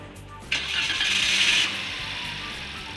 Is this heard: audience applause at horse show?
no